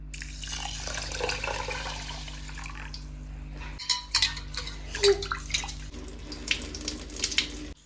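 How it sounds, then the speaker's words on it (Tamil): Water runs and splashes into a vessel, then sloshing and swishing as rice grains are stirred and rinsed nearby. "தண்ணி ஊத்தி கழுவிடலாம்."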